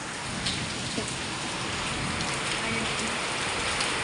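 Steady, dense rainfall patters on surfaces close by, a constant broadband wash with no break and no voices.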